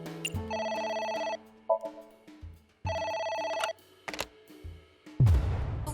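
Telephone in the video game AI: The Somnium Files rings in two loud, steady electronic bursts about a second and a half each, separated by a pause with scattered game sounds, then a heavy low thump at the end.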